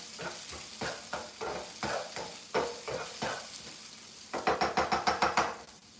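Garlic and onions fry in a pan with a steady sizzle, broken by repeated scraping stirs and a quick run of rhythmic knocks of a utensil against the pan near the end.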